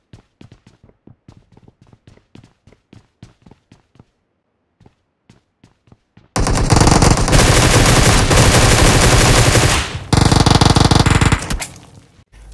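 Automatic weapon fire from a PUBG Mobile match: after a stretch of quiet clicks and light taps, a loud continuous burst of rapid gunfire erupts, pauses briefly, then resumes before trailing off.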